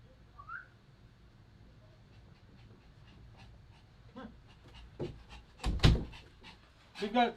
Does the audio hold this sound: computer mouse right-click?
no